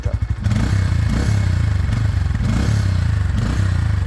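A Bajaj P150 motorcycle engine revs up from idle and holds a loud, steady, throbbing rumble with slight rhythmic pulsing, close and alone.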